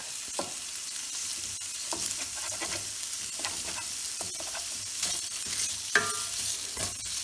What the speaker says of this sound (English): you want it to brown up. You want to get a little bit of color with it. just let that go and cook